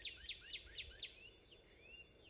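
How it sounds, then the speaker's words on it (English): Outdoors among trees in autumn, a small bird repeats four quick, bright chirps in an even rhythm, then adds softer trailing notes, faint and a little distant, with no voices. "Maybe some birds singing."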